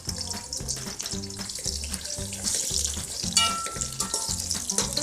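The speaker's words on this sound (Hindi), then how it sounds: "सबसे पहले हम भिंडी फ्राई करेंगे और इसको हम थोड़ा सा लाइट सा ब्राउन कलर देंगे" Okra (bhindi) fries in hot oil for achari bhindi, a close sizzle with regular rhythmic knocks and scrapes of stirring, steady and fairly loud throughout, no voices.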